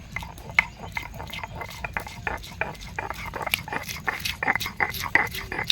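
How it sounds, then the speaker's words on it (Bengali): Green chillies are ground by hand on a grinding stone outdoors in a forest setting: rhythmic, repeated scraping and knocking strokes at close range, with a low background rumble and faint voices. "তো এবার আমরা লঙ্কাটা বেটে নেব।"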